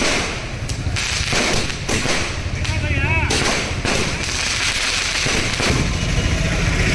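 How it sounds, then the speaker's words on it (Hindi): Lawyers set off firecrackers outside the Garhwa court premises in Jharkhand, making a loud, continuous run of bangs and crackles. A low engine-like rumble runs underneath. "गढ़वा कोर्ट परिसर के बाहर अधिवक्ताओं ने जमकर आतिशबाजी की"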